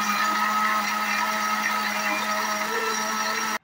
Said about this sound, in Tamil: அடுத்து நம்ம அரைச்சி இதை பேஸ்ட் ஆக்கிக்க போகிறோம்